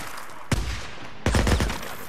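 Gunfire in the video game Life After: two sharp bursts, a short one followed by a longer, denser rattle of rapid shots, close and loud over a steady background hum.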